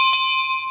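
A temple bell struck once with a bright metallic clang, its steady ringing tone sustaining loudly through the whole short moment without any voices.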